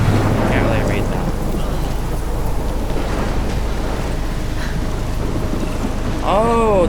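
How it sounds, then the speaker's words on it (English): Thunderstorm in the game Life is Strange: steady loud rain and rumbling thunder fill the scene throughout, with a brief rising whoosh near the end. "Oh, that's a big storm."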